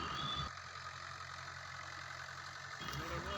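A Mahindra 575 DI tractor engine runs at a steady idle-like drone in a farm field during corn sowing, holding an even low rumble throughout with a slight change in tone near the end.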